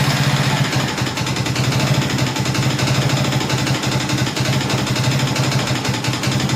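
A 2002 Honda Reflex scooter engine with an unhappy carburetor idles steadily while warming up, a close, loud, continuous putter with a fast rhythmic chug and no talk over it.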